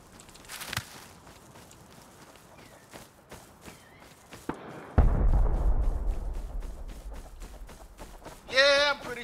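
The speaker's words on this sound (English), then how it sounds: "stay away from those explosions for sure" In the video game Rust, a sudden heavy explosion booms partway through, with a rumbling tail, over faint crunching footsteps and distant background noise, with one short sharp burst near the start.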